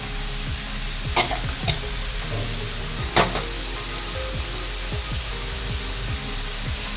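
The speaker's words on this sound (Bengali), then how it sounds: "আলুটাকে মশলার সাথে কষে নিচ্ছি সামান্য একটু জল অ্যাড করলাম তার কারণ মশলাগুলো যাতে পুড়ে না যায়" Potatoes fry with spices in a pan for a vegetarian green jackfruit curry, a steady close sizzle with scraping stirs and a few sharp spatter bursts, no talking.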